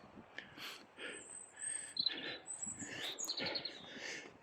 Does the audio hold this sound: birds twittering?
yes